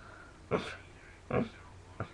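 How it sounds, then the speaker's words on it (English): Three short, breathy sniffs spaced about a second apart, close and fairly quiet, with no other sound between them. "I'm sorry for the sniffling."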